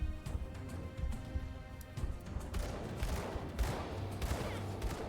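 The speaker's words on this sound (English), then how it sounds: "Start shooting at him from a distance." Gunfire in the action game Grim Dawn, a busy, irregular stream of shots and impacts that thickens into a dense barrage in the second half, fairly soft overall and with no talk.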